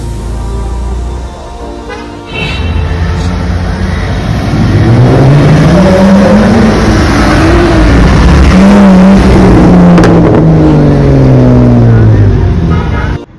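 A Porsche 911 Carrera S drives by on a Mumbai street, its engine note rising and sweeping past nearby amid steady traffic noise, with faint voices in the background.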